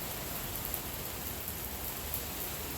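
Steady rain falls outdoors during backyard burger cooking, a dense even hiss filling the whole stretch at moderate level with no voices.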